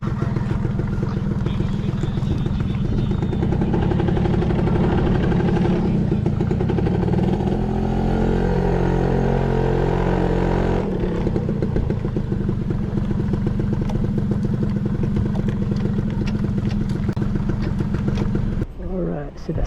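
Motorcycle engine running steadily while parking at a hostel near Taman Tamadun Islam in Terengganu, a continuous close rumble throughout with a brief throttle change partway, and people talking over it.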